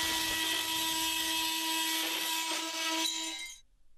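A Bosch GOP250 oscillating multi-tool cutting laminate buzzes steadily with a harsh, high-pitched vibrating whine, cutting continuously for a few seconds before stopping abruptly.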